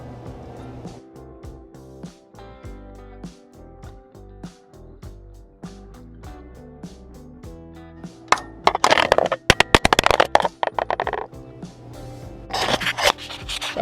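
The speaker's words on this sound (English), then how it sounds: "So now we're just going to hammer it in" A starter bushing being hammered into the bellhousing of a Willys CJ-2A Jeep: a burst of sharp, rapid metallic strikes close by, preceded by quieter scraping and handling sounds.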